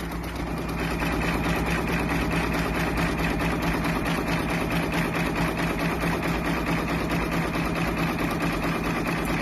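A Baby Lock Capella embroidery machine stitching a hat runs in a steady, dense mechanical whir with rapid needle rhythm, loud and continuous throughout without pause.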